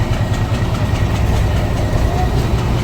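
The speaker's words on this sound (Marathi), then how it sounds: "इथे इंजिन रूम आहे खाली मला आवाज येत असेल" A loud, steady mechanical drone of heavy engines fills a boat's engine room, a constant low rumble with faint rhythmic clatter and no pauses.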